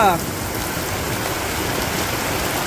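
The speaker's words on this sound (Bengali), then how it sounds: "বাবু, বৃষ্টি দেখ পাঞ্চ" Steady, dense rain hiss falls over a Bangladesh village on a rainy-season day, an even wash of water with a brief voice fragment at the very start.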